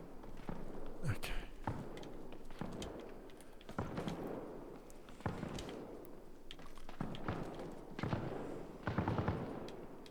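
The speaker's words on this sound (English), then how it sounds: "That gunfire is too close." Sharp gunshot cracks from the video game Arma Reforger pop out again and again over a busy, noisy background, some close and some further off, with scattered thuds and a voice now and then.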